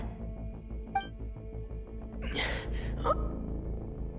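A Genshin Impact character gasps sharply for breath partway through, a strained breathy intake rising over steady low game music and ambience.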